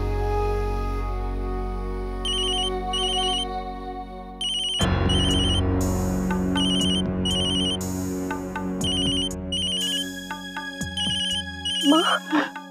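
A phone ringtone signals a call from home in an Indian TV drama scene: a bright electronic melody repeats in a steady looping pattern, loud and close, over a low musical backdrop, with no talking.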